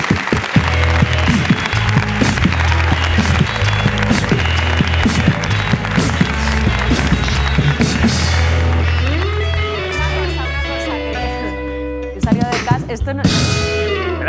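Studio audience on a Spanish late-night talk show applauding a guest, loud sustained clapping with music playing underneath, then a brief lull before a final burst.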